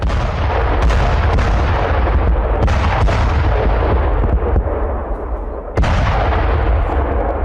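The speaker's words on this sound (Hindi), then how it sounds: "ज़ेपोरिज़िया पर रूस के उस भीषण हमले की, जहां यूक्रेन पर फैब 3000 ग्लाइड बॉम्ब से अटैक किया गया" FAB-3000 glide bomb strikes in the Zaporizhzhia war zone send out loud, sustained rumbling blasts, with several heavy booms cutting through a continuous roar of explosions and fire.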